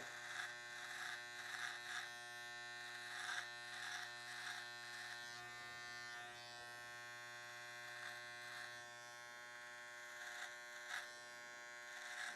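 An electric hair clipper shaves up the side of the head during an undercut haircut, its steady high buzz running continuously and fairly faint, with slight rises as the blade moves across the stretched skin.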